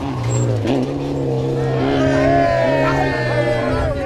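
A rally car races through a stage at full throttle, its engine roaring loud and close with steady high revs and shifting harmonic tones, as a voice talks faintly underneath.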